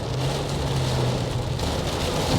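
Steady rain falls in America, a dense even patter on surfaces with a low rumbling hum beneath, likely from a car moving along a wet road, continuous and fairly loud with no talk.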